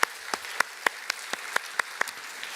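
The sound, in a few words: congregation applauding for the mission team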